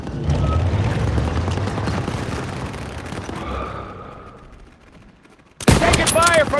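Dense gunfire fills a Call of Duty: WWII battle, with rapid rattling shots and rumble that fade out, then a sudden loud burst of noise returns abruptly near the end.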